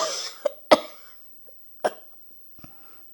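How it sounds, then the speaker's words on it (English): Several separate coughs from a woman, sharp bursts spaced across a few seconds with quiet gaps between, close to the microphone and with no talking. "now I'm going coughing again"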